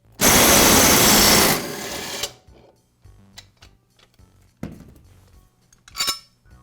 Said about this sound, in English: I'll use the impact driver to remove it.